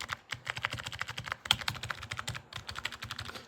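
Fingers type steadily on a purple MOFII wireless 18-key numeric keypad with membrane keys, a close run of soft, rapid clicks and taps in an uneven rhythm with no talking.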